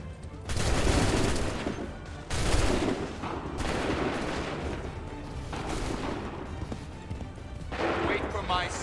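Repeated musket volleys in Assassin's Creed 3 during Revere's Ride, several loud bursts of massed gunfire with short gaps between them, voices heard between and under the shots.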